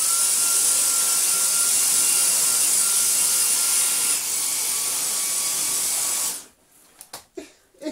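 A Dyson DC35 cordless vacuum cleaner running in max mode gives a loud, steady high-pitched whine for about six seconds, then shuts off, leaving a few scattered clicks and knocks.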